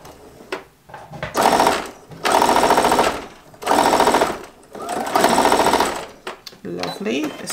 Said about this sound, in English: I'm going to put that down and I'm going to sew.